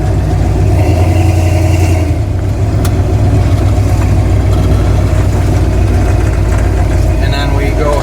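A 1974 Ford Bronco engine runs loud and steady while the truck turns on pavement in four-wheel drive, a continuous close drone with a slight rise near the start and no clear tire noise above it.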